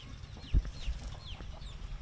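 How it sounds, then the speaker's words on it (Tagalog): Chickens cluck softly at a moderate distance, with a few chirpy calls over a low outdoor rumble. "May mga manok."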